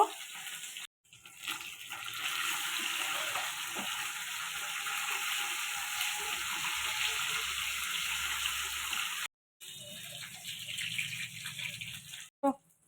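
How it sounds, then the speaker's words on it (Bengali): Bata fish frying in hot oil in a pan, a steady soft sizzle running for most of the clip, briefly cutting out twice, with no talk over it. "বাটা মাছটা ভেজে নিচ্ছি"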